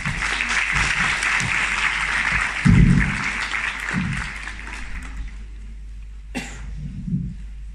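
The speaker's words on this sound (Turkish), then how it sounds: "Alkışlarınızla onları davet ediyorum." Audience applause welcoming performers onto the stage at a tea ceremony event, a dense burst of clapping for about five seconds that then fades out, with a few coughs and one sharp knock near the end.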